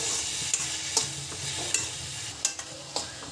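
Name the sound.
tomatoes being fried and stirred in a pan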